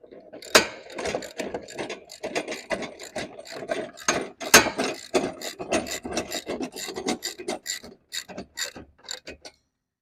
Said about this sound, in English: We want to tie in the bolt and nut using the 19mm socket with your ratchet